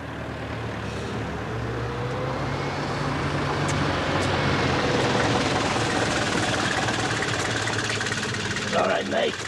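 A taxi engine idles steadily throughout, a continuous low rumble close by, with a slight swell near the end.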